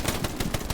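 Rapid automatic gunfire in the Hell Let Loose World War II shooter on the Mortain map, a quick burst of sharp closely spaced shots, loud and near, with no talking.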